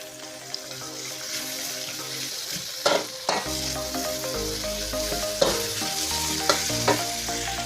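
Pork belly stir-frying in a pan, a loud bright sizzle under quick metallic stirring strokes and clanks, close up, with a watery hiss in the background and no one speaking.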